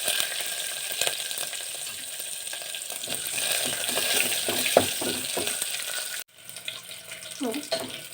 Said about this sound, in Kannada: ನೋಡಿ ಈ ಒಗ್ಗರಣೆ ಹಾಕಿದ್ದೀನಿ